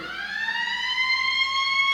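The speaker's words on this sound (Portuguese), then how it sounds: "O seu celular é uma sirene, cara." A mobile phone ringtone that sounds like a siren, a steady rising electronic wail with strong bright harmonics, loud and continuous with no talking over it.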